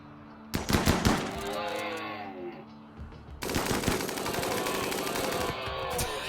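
A minigun fires in a video game, a short rapid burst followed by a longer sustained stream of loud, dense automatic gunfire with metallic rattling tails.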